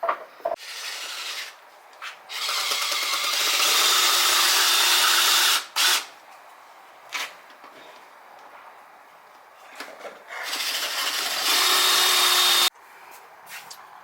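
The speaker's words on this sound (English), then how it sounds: "Now I gotta drill out these two bolts right here." A power drill drilling out bolts on a minibike motor stator, two long, loud bursts of grinding metal-on-metal whine separated by quieter scraping and handling noises, close up.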